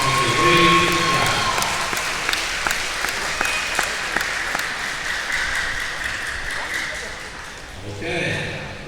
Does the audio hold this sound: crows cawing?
no